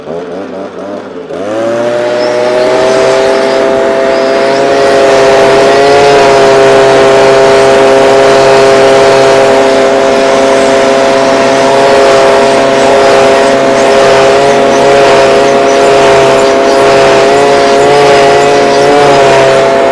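A gas-powered blower starts up and then roars loudly and steadily at a constant pitch while clearing bees from comb honey supers, close and dominant throughout.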